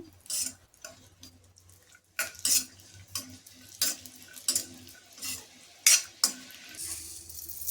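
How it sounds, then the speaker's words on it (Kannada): Dry fruits fry in three to four spoons of ghee in a kadai, with a spoon stirring and clinking against the metal in a series of quiet, separate scrapes and taps and only a faint sizzle beneath. "ಸೇಮ್ ಕಡಾಯಿಗೆ ಮೂರರಿಂದ ನಾಲ್ಕು ಸ್ಪೂನು ತುಪ್ಪನ ಸೇರಿಸಿ ಡ್ರೈ ಫ್ರೂಟ್ಸ್ನ ಫ್ರೈ ಮಾಡ್ಕೊತಾ ಇದ್ದೀನಿ"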